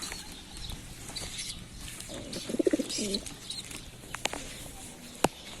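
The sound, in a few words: pigeon chicks crying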